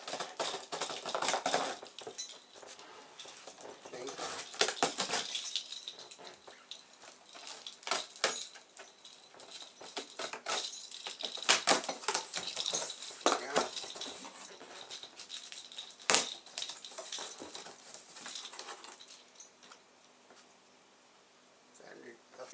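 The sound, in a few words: blade cutting through sellotape on mower box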